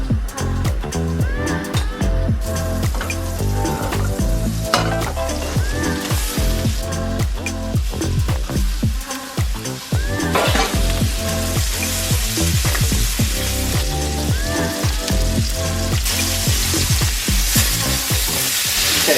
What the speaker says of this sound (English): Take it over to the hob for frying.